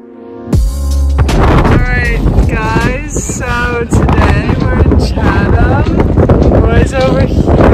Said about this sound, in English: Windy, so I don't know how the audio will be.